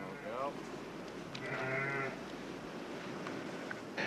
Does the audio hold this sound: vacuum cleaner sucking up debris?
no